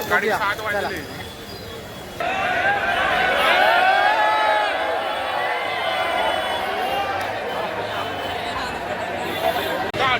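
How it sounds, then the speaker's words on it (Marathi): Dense crowd queuing for Lalbaugcha Raja Ganpati darshan in Mumbai, a continuous hubbub of many voices with scattered calls, and someone speaking close by over it. "पहिलाच दिवस आणि एवढी गर्दी आहे"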